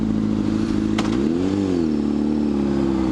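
Motorcycle engine idling at a red light on a hot day near Bourbon Street, a steady low rumble with a slight rise and fall in pitch and a brief sharp click near the start, close and continuous with no talk.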